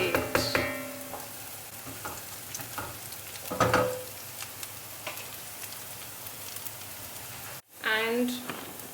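Onions frying in a pan for chicken biryani, a soft continuous sizzle with light crackles, heard under a voice talking and with occasional stirring.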